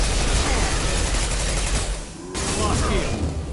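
Dense, sustained gunfire in the sci-fi shooter game Mass Effect Legendary Edition, a loud continuous fusillade of rapid shots that briefly drops off, then resumes, with voiced character dialogue mixed in.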